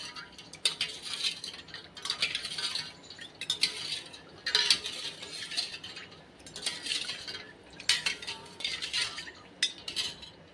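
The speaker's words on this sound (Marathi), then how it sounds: "चला आता याला मिक्स करते चार ग्लास आहे" A spoon stirs lemon sharbat in four glasses with rapid metallic clinks and rattles in repeated bursts, fairly faint and close, without talk.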